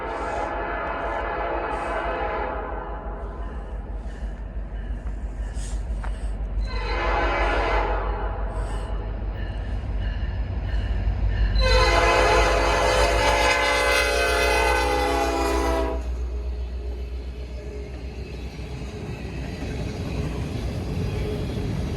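A Norfolk Southern freight train led by locomotive 6981 rumbles steadily past as its horn sounds in several blasts, the last one long and loud, over continuous low rail noise.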